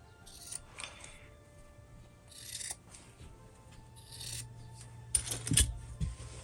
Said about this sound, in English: I'm gonna go and trim the corner just a little bit.